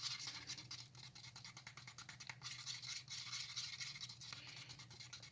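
Epoxy resin with thick white pigment being stirred in a cup, a close, quiet, continuous scraping and swishing with rapid bristly patter.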